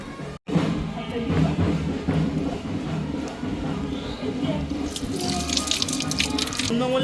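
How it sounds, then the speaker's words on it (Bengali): Tap water runs into a kitchen sink as strawberries are rinsed under it, a steady close splashing stream with a few thumps and a brief louder gush near the end, with voices and household noise mixed in. "দাঁড়া আমি স্ট্রবেরিটা ধুই দিয়ে খাবো"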